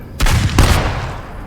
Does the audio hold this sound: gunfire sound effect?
yes